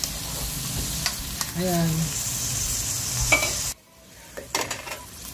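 Sautéed patola (sponge gourd) stirred in a pan for ginisang miswa, soft sizzling with light utensil clinks and scrapes, a brief voice over it, then a sudden quiet stretch with a few faint knocks.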